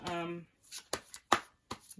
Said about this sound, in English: But I'm going to keep shuffling.